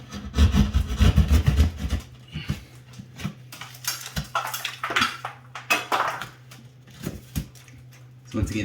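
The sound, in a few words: cutting out ceiling along joist for recessed light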